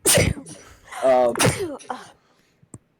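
One sharp, loud sneeze bursts out at the start. A short voiced exclamation follows, then quieter talking, and a faint click closes the moment.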